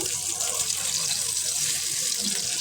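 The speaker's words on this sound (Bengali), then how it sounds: "এখন মাছগুলো মাছের পিঠটা এভাবে দিয়ে বেজে নিতে হবে নাহলে পিঠের দিকটা কাঁচা থাকতে পারে" Koi fish frying in hot oil in a pan, a steady, close hiss and bright crackling sizzle that holds at an even level throughout.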